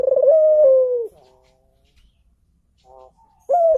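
A spotted dove cooing up close, a loud drawn-out coo, a short softer call after a pause, then another coo that starts abruptly, with quiet gaps between.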